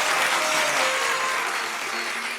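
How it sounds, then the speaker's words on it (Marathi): A studio audience at a Marathi stage comedy show claps steadily for a guest, a dense, even wash of applause that fades slightly toward the end. "एकदा टाळ्या होऊन जाऊ देत त्यांच्यासाठी."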